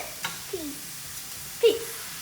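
Carne asada meat sizzles as it cooks for tacos: a soft, steady frying hiss broken by a few brief stirring clicks and scrapes.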